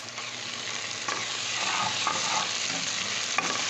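Steady sizzling of garlic-ginger paste frying in a pan, with occasional stirring scrapes and soft pops throughout.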